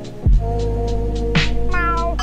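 Gary the snail from a SpongeBob video game meows like a cat in a loud, drawn-out cry over steady game music, with a short sharp accent near the start and a second rising meow midway.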